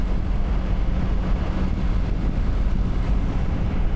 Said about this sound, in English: Well, it's not too windy in here for me, so hopefully it's not too bad on the mic.